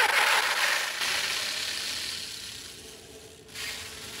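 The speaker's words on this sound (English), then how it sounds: "that noise you heard was because my belt wasn't tensioned properly and it was slipping off the front spindle" A 6S RC snowmobile, the SkeeRide V2, runs outdoors on grass while its loosely tensioned drive belt slips off the front spindle, giving a steady, close, hissing mechanical whir with a grinding, ratchet-like edge that eases off and then surges briefly near the end.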